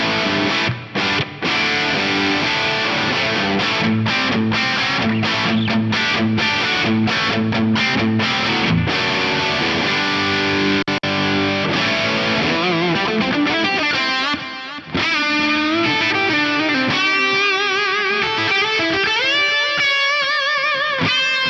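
Distorted electric guitar played through reactive loadbox presets, a BOSS WTAE and a Two Notes Captor X, with plate reverb, delay and post EQ. Loud chugging chords come first, then sustained ringing notes with a lingering tail, and no talk.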